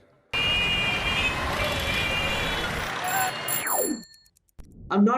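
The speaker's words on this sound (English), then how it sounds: "Traffic." Loud, broad roadway traffic with heavy vehicles, a truck or bus rumbling close by and passing, trailing off into near silence before a brief noise at the end.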